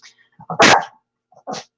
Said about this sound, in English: Dog wants to go outside.